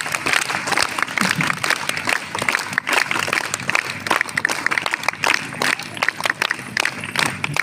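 Loud, close audience clapping at a village school prize ceremony, a dense continuous patter of many hands filling the whole stretch with no pauses.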